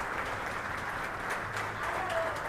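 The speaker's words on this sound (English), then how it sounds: "Applause for him." Audience applause for a special guest at an official CONCACAF League football draw ceremony, a soft, even wash of distant clapping held at low level throughout.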